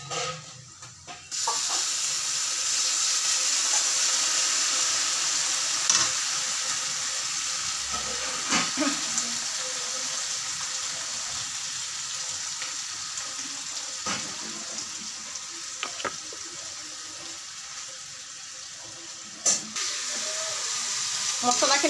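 Ground spice paste sizzles in a pan with browned onions for an Assamese-style masala fish curry, a steady, close frying hiss with occasional stirring clatter and no talk.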